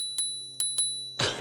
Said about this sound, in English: It also has this cute little bell